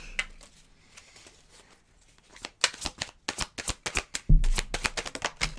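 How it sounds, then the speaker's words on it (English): A deck of cards is shuffled up close, starting with faint handling and then breaking into a fast run of crisp riffling flutters and snaps that grow louder toward the end. "Shuffling the deck."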